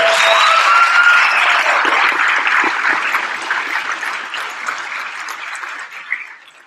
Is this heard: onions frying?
no